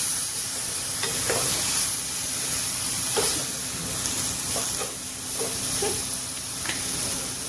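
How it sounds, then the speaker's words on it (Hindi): Potato and eggplant curry sizzles and fries in a pan on the stove while a spoon stirs it now and then, a constant close hiss broken by short scraping strokes, with no voices. "और गैस को थोड़ा तेज कर देंगे और इस सब्जी को चला देंगे।"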